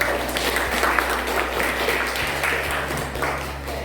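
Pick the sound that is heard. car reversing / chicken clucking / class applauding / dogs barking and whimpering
class applauding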